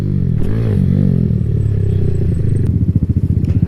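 A Kawasaki Z125 motorcycle fitted with a Yoshimura exhaust rumbles close by, its engine droning steadily before settling into a pulsing, lumpy idle.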